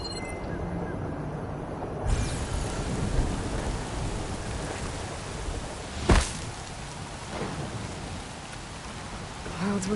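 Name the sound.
thunderstorm with rain in a video game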